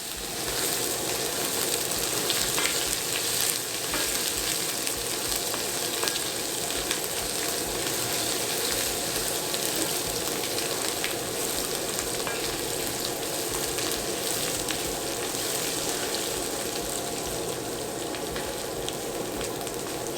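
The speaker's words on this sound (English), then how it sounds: "So we'll just cook this until the rawness of the garlic goes away, the smell." Garlic sizzling in a skillet for homemade vada pav, a steady, dense frying crackle that holds evenly throughout at moderate loudness, close by, with no talking.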